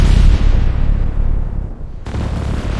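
Naval cannon fire from a US Navy engagement against Iranian forces, heard as loud, dense booming rumble that continues throughout, with heavy low-end weight and a brief drop in intensity before surging again.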